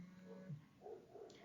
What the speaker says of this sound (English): You may hear my dogs barking in the background.